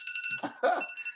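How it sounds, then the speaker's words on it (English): A personal alarm goes off during a live talk show, a steady, high electronic tone that repeats in short pulses and sounds close and moderately loud. "Okay, that's my alarm."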